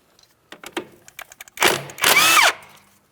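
An 18mm wrench breaks loose the outer tie rod mounting nut on a 2007-2014 Ford Edge, with light metal clicks followed by two short bursts of grinding, ratcheting noise up close.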